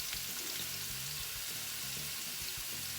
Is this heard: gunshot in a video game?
no